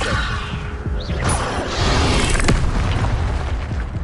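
Levioso spell cast in a Hogwarts video game, a whooshing rise into a booming burst with a sharp crack near the middle, then a lingering rumbling tail, loud and without voices.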